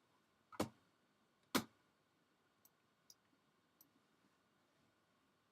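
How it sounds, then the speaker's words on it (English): Arrow keys on a computer keyboard are tapped: two sharp, distinct clicks followed by a few much fainter taps, isolated against a quiet room. "I'm using the arrow keys on my keyboard"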